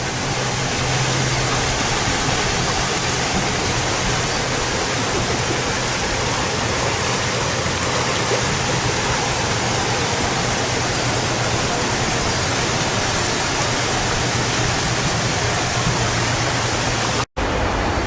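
Constant rushing, splashy water noise from fish at a hatchery splashing for food fills the whole stretch, loud and steady, like churning water close by, with a brief cut near the end.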